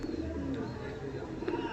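Kolkata pigeons, including a yellow-eyed female, coo softly in a low, steady murmur against faint background noise, with no clear talking over them.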